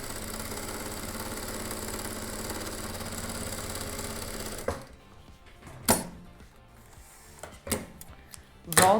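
For about five seconds a sewing machine hums steadily as it runs a long, wide gathering stitch along the edge of dress fabric, then stops, leaving sparse clicks and fabric handling sounds.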